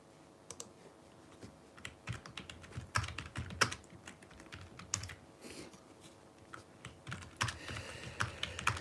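Typing on a membrane computer keyboard: a steady stream of soft, close key presses in irregular bursts, with occasional louder taps over a faint background hum.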